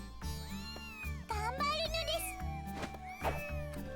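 Cartoonish cat meows ring out several times over bouncy game music and sound effects during a baseball minigame in the visual novel Little Busters, with a voice talking over them.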